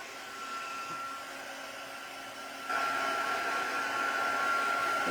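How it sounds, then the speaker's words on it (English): Heat tool blowing to dry a page in an art journal, a steady whirring air rush that switches on louder partway through and holds constant, close to the listener with no talk over it. "now I might just hit it with my heat tool for a second"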